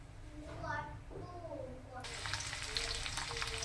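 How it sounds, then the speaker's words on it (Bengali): Bitter gourd pieces frying in hot oil in a wok give a steady, close sizzle that swells loudly partway through, with a voice speaking over the start. "কড়ার মধ্যে তেল দিয়ে দিয়েছি এই করলাগুলো ভেজে নেবো লাল লাল করে"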